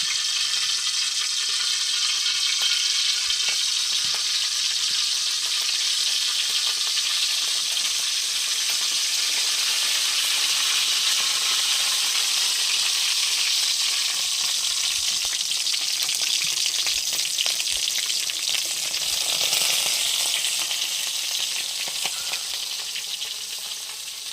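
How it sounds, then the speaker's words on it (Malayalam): Loud, continuous sizzling of small sardines frying in hot oil, crackling steadily for a long stretch with occasional stirring. "അപ്പോൾ നമ്മുടെ കുഞ്ഞ മത്തിയൊക്കെ വറുത്തെടുത്തിട്ടുണ്ട്"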